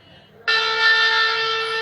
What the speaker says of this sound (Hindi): शंख की ध्वनि हुई, इसका मतलब ये हमारा स्टार्ट हो गया।